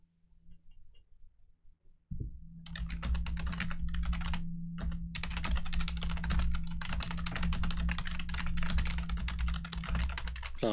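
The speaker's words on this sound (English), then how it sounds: "Fast typing." Fast, continuous typing on a computer keyboard during an Among Us game, dense clicking keystrokes running loud and steady for most of the clip after a short quiet start, with a low hum underneath.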